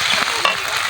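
Onion, ginger paste and garlic paste frying in a pan with bay leaves, stirred throughout, giving a steady close sizzle with soft scraping and no voices.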